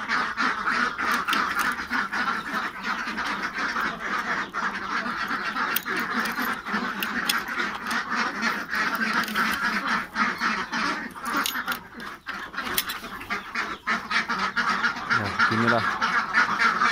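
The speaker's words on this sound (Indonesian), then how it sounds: "Yuk kita cek perkembangan bebek bayah kita" A flock of young ducks kept in a pen about eight days quack and honk continuously, a dense, busy chorus of calls close by with a few louder cries near the end.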